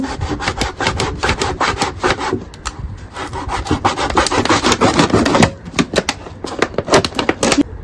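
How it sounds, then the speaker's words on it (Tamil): A large two-litre plastic water can is sawn in two, producing loud, rapid rhythmic rasping strokes in close bursts with brief pauses, and no talking. "இப்போ இதில் வந்து ரெண்டாக கட் பண்ணிக்கோங்க"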